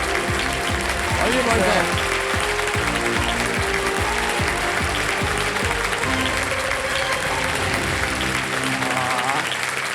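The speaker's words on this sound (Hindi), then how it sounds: "बहुत जोर से ताली बजाई उन्होंने" A game show studio audience applauds loudly and continuously, a dense wash of many hands clapping, while someone speaks briefly over it and rhythmic music thumps underneath.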